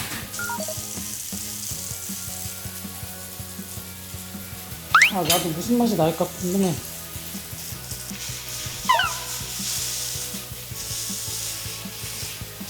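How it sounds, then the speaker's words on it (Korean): Glass noodles pan-fried with whelk broth in a skillet, pressed into the pan until they start to scorch, giving a low scraping sizzle under a woman's speech, with a louder burst of stirring and rubbing midway. "이거는 팬에다가 약간 지지듯이 볶는 거라서"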